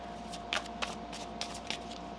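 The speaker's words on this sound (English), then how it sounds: "One more shuffle." Tarot cards shuffled by hand during a reading, heard as a few soft, quick riffling flutters at irregular intervals over a steady low background hum.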